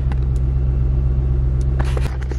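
A car engine rumbles steadily and close, a low continuous drone with no voices, as a car is driven off.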